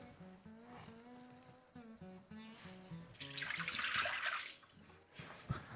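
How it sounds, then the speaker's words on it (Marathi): Water is poured out of a bowl of washed strawberries at a kitchen sink in a short splashing gush midway, after some quieter tonal sounds, all fairly faint. "हे पाणी आपण उपसून घेऊया"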